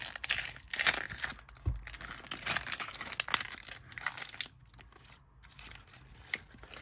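Papery onion skin being peeled away by hand, giving close crinkling and tearing rustles in irregular bursts with brief pauses, and no talking.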